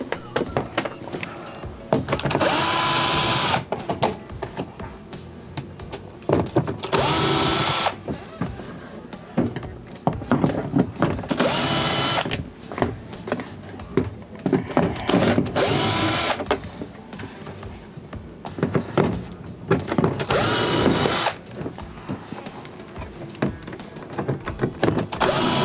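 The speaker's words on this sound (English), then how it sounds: "we're going to remove all the T15 Torx screws." Power drill with a T15 Torx bit backing screws out of a Whirlpool dishwasher panel: repeated loud whirring bursts of a second or two each, separated by quieter handling clatter as each screw is removed.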